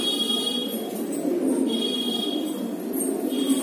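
An old-breed pure Deobandi pigeon, a male with grey eyes and a large head, coos in soft repeated low murmurs alongside a steady background hum and faint higher chirps.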